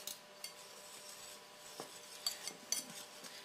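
Spices being whisked together in a bowl, with cinnamon among them: soft metallic scraping and light clinks of the whisk against the bowl, quiet and close, with a few sharper taps near the end.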